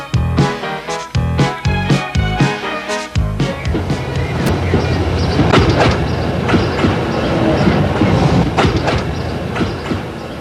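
Railway carriages travelling through Austria's mountains, wheels beating out a loud, quick clickety-clack that blurs into a continuous rolling rumble with a brief squeal partway through.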